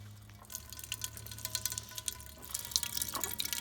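Fresh apple cider pours and trickles into a container, with wet splashing and dripping sounds, close by and fairly quiet, no voices.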